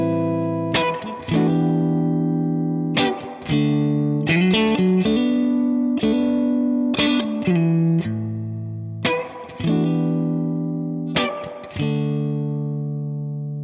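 An electric guitar played through a TWS 2864-S amp with reverb and delay in the front end rings out bright, near-clean chord stabs at a steady pace, each strum trailing off smoothly, with no talking.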